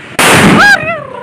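A big firecracker bomb bursts at a family Diwali celebration with one loud, close blast that crackles briefly and then fades into ringing echoes.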